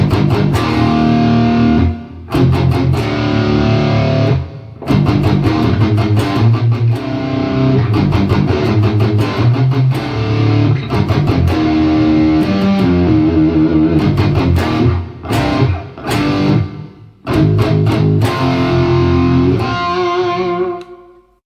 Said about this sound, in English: bringing it to the electric guitar, beefing it up with a bunch of distortion